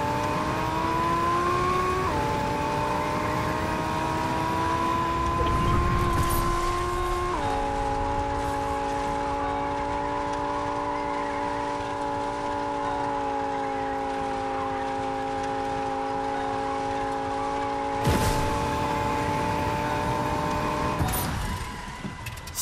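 A wheelless car driven in a video game, its engine droning in steady sustained tones that shift pitch with gear changes and throttle, with a couple of brief bangs and scrapes; no talking.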